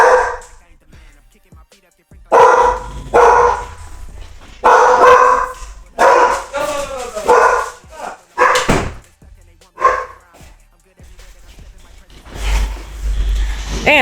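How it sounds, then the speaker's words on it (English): A pet dog barks repeatedly in loud, sharp bursts with gaps between them, close by indoors, while someone talks in between and over some of the barks. "my damn dog."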